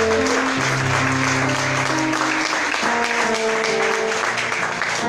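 Church congregation applauding the Lord, loud sustained clapping from a large crowd filling the space continuously, with music tones and faint voices underneath.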